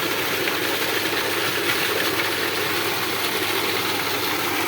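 Close, unbroken engine-like drone from a running Liverpool 7.5 hp electric water pump motor on a 4-inch delivery with two outlets, its hum blended with a constant hiss of gushing water.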